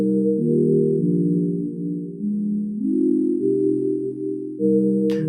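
Sustained synth chord from the Serum preset MOH cassette sign, a warm, slightly wobbly tape-style pad held over several chord changes, loud and steady with no voices.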